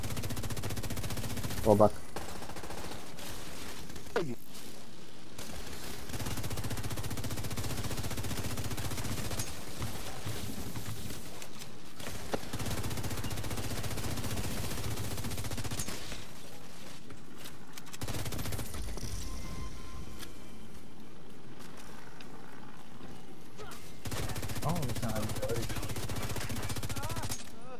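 Rapid gunfire and shotgun blasts from a firefight in the video game The Division 2 run continuously at moderate loudness under players talking over voice chat.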